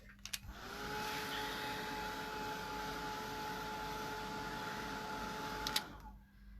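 A heat tool dries ink on a handmade winter mixed media card, a steady whirring blower hum that starts with a click, runs evenly for about five seconds, then clicks off.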